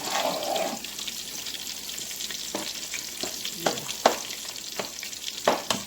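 Pork chops fry in salted butter in a skillet, a continuous close sizzle broken by intermittent sharp spatters and crackling pops that grow busier toward the end, with no voices.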